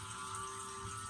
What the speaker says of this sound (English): So what I'm going to do right now is literally go in with like warm water.